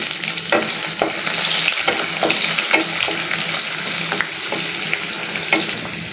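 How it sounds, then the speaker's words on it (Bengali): Chopped onions hit hot white oil in a pan and fry, a dense continuous sizzle with small crackles and occasional stirring scrapes throughout, close and fairly loud with no voices. "তেলটা গরম হয়ে গেছে, দিয়ে দিচ্ছি পেঁয়াজ কুচি।"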